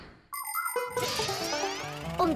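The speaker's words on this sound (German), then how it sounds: "Dieser Apparat testet die Haltbarkeit der Türklingel." A bright electronic doorbell chime, rung by a durability-testing machine, sounds in a few clear tones, followed by a second chime starting near the end, close and fairly quiet.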